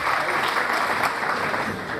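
An audience at an Urdu book release event in Sholapur gives a guest, the education minister, a strong round of applause, dense and steady throughout.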